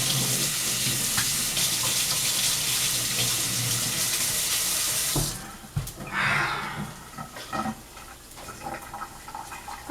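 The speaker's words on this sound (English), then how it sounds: "We're gonna wash our spoon." Tap water runs steadily from a kitchen faucet while a spoon is washed during homemade hamburger helper cooking, loud for about five seconds, then cutting off into quieter sink clatter and handling noises.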